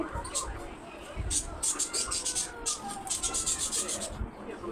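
Scissors cutting blouse fabric into a round shape give a repeated rasping snip-and-rub texture with crisp high clicks, close and steady, while someone talks over it.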